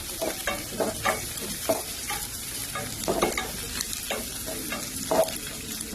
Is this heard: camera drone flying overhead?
no